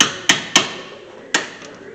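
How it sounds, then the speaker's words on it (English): Hammer strikes on old, crusty brake caliper screws of a 2013 Hyundai Santa Fe, four sharp metallic hits at uneven intervals, close and loud, each ringing briefly before fading. "Use the hammer, not your hand."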